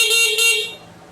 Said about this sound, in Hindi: और हॉर्न भी बहुत पावरफुल है।